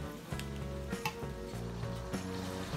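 Butter sizzles and fries steadily in a pan for a bechamel sauce, with a few soft clinks from stirring, close and fairly quiet, and no talking.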